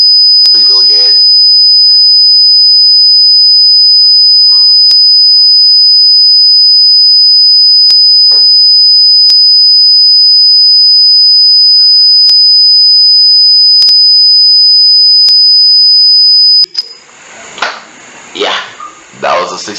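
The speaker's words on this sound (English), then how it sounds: "So you guys should hold your ears because of the beep." An alarm beep generated by a Python program, a single loud, piercing steady tone held continuously for about sixteen seconds before cutting off, followed by a voice speaking.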